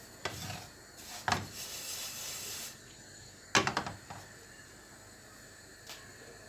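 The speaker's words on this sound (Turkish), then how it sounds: "Bazen şöyle bir tavayı gerekir, sallamak gerekir şöyle" A pan of poppy seeds being roasted is shaken in a few short bursts, giving quick rasping, rattling swishes of seeds sliding across the metal, separated by quieter pauses.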